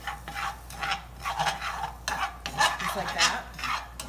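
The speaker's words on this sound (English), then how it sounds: "you're gonna just saute that for a few minutes" Garlic sautéing in butter in a pan, with a spoon stirring and scraping in uneven close bursts over a soft sizzle, and a brief spoken remark.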